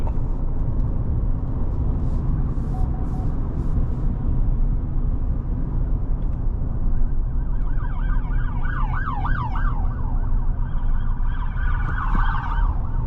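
A Hillsborough County Sheriff's Department vehicle's siren wails in rising and falling sweeps, heard from inside a moving 2023 GMC Sierra Denali with a 6.2L L87 V8, partly masked by steady road and engine rumble as it grows closer.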